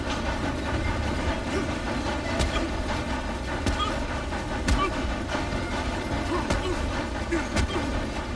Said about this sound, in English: stop this train!